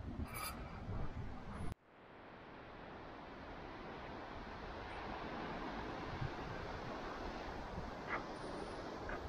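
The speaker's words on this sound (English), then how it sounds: "It's very windy. The water is rough." Strong wind buffeting the microphone over rough water at St. Simon Island, a steady roar of gusts and surf after a brief louder rustle at the start, with no talking.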